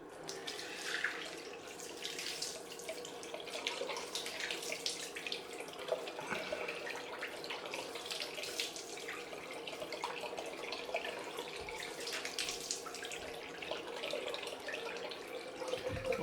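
A tap runs steadily into a sink for a cold face rinse after shaving, a continuous close splashing stream with small fluctuations as water is cupped and splashed, with no talking.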